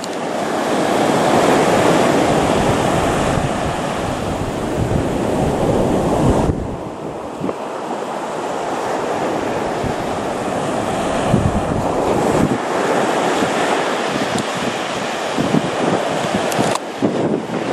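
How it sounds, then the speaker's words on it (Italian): Strong wind buffets the microphone at the seaside while waves surge and break in the background, with loud, continuous gusts that briefly drop off and then return. "il vento, fratello vento, mi smuove i bracci, le mani, tutto quanto"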